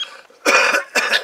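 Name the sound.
person coughing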